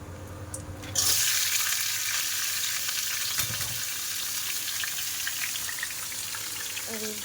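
Chopped bitter gourd, potato, onion and green chilli go into hot oil in a wok; after a quieter second, a sudden loud sizzle bursts out and continues steadily to the end.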